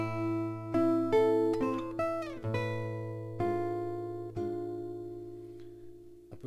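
Classical guitar playing a passage from Villa-Lobos's Mazurka, a series of plucked notes and chords with a low bass note ringing beneath, some quick slides, then a final chord left to decay; soft and close, with no talking.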